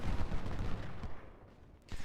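Cannons fire continuously in a Civil War battle at Antietam in the video game Ultimate General: Civil War, a dense rumbling barrage of booms that swells and eases over a couple of seconds with no voices.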